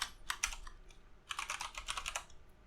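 Bursts of typing on a computer keyboard while entering bash commands in a terminal, two close clusters of rapid, crisp keystrokes separated by a short pause, no voices.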